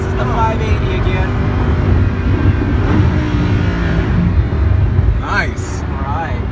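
A Lamborghini Huracan 580, a rear-wheel-drive car, growls loudly from inside the cabin, its engine rising and falling in pitch as it revs, with people talking over it.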